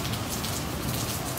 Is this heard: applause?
no